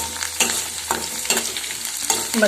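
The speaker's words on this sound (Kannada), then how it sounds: "ಈರುಳ್ಳಿ ಏನಾಗಿದೆ ಕ್ಲೀನಾಗಿ ಬೇಯ್ತಾ ಇದೆ" Onions fry in a pan while being stirred, giving a loud close sizzle broken by repeated scraping strokes of the spoon about every half second, with no talk.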